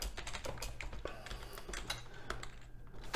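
Code is typed on a computer keyboard in a rapid, uneven patter of close key clicks, continuous and free of speech.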